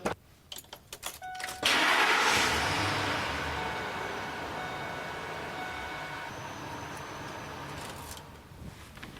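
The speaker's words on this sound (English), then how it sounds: "We're going to start the engine for about 20 seconds just to get the oil flowing through the lubrication system." A 2001 Ford F-series pickup's 5.4L engine cranks briefly, catches with a loud burst, then settles into a steady, close idle that slowly eases in volume, with no talking over it.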